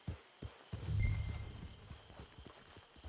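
A horse's hooves clip-clop in a steady rhythm in the Red Dead Redemption 2 video game, near and moderately quiet, under a brief low rumbling swell.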